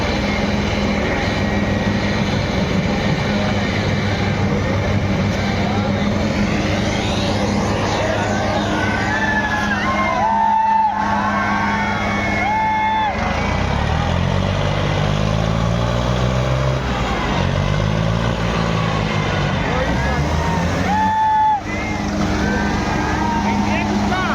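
An Arjun tractor engine drones loudly and steadily at a tractor pulling event, its pitch climbing and falling in repeated revs, with crowd noise and voices mixed in.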